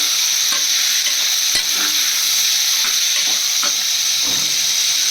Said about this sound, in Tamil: வதக்கிப்போம் வெஜிடபிள்ஸு